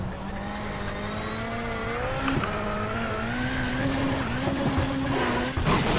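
Racing simulator video game car cornering and hitting a wall, with a steady loud engine whine rising in pitch, tires squealing and a dull thump near the end.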